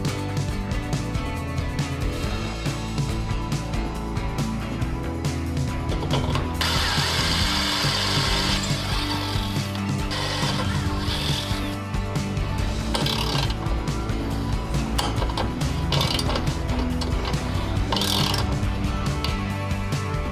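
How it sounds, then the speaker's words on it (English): A hand ratchet taps threads for the oil sensor and governor hose holes in a Duromax 440cc small engine block, with continuous clicking and grinding mechanical noise that rises into a brighter, busier stretch partway through. "We need to tap the oil sensor and governor hose on our block."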